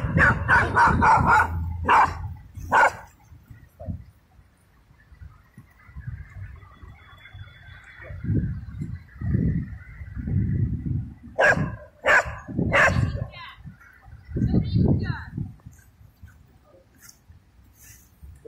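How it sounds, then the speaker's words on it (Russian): Several dogs bark outdoors in a residential area beside a young birch grove, in scattered bursts of a few sharp barks, fairly close, with quieter gaps between volleys and no talking over them. "Ось навіть собаки лають."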